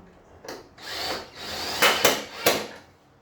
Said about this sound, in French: On visse la deuxième.